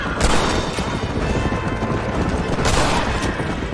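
Gunfire crackles through a Red Dead Redemption shootout, with dense overlapping shots and a couple of sharper bursts standing out against continuous loud battle noise.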